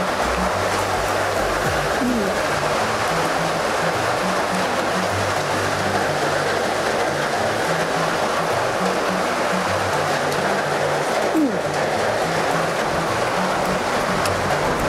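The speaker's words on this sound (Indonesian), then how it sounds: "Hujannya gede banget ya" Heavy rain pours down steadily and loudly, a dense continuous wash of water noise that fills the whole scene, with faint speech-like murmurs buried underneath.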